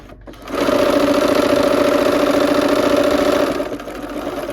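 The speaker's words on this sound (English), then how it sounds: "we'll go ahead and start sewing, okay? All right, so here we are at the machine, and we are going to use our 1/4 inch seam as always." A sewing machine stitches quilt blocks with a quarter-inch seam, running as a close, steady, even mechanical whir for several seconds, with no talking.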